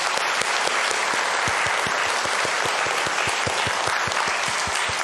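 Church congregation at a Sunday worship service clapping together, steady loud applause with a dense hiss of many hands and distinct low thumps at a regular beat, continuous throughout.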